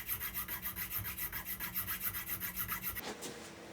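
Small file or saw rasping string slots into a guitar nut in steady back-and-forth strokes, about a dozen rhythmic passes, close and clear, then stopping abruptly with a quiet room tone.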